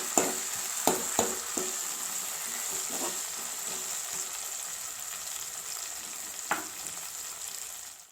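Ginger garlic paste stirs and fries in a pan for a Telangana-style tomato dal, with a steady soft sizzle and a few sharp spoon scrapes against the pan near the start and once again later.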